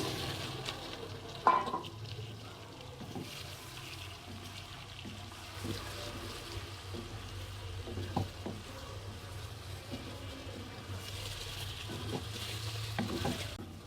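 Whole catfish frying in a pan with ginger paste as it is stirred, a low quiet sizzle with occasional soft scrapes and taps, no voices.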